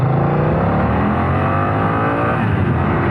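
A BMW F900 XR motorcycle engine pulls away hard under strong low-end torque, its loud, steady rising drone filling the whole stretch with no talk.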